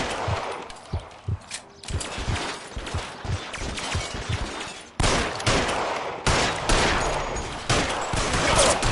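A gunfight in the crime game LA Noire: bursts of pistol and rifle shots crack out in uneven clusters, some sharp and close, then merge into a heavy, sustained fusillade. No one speaks over it.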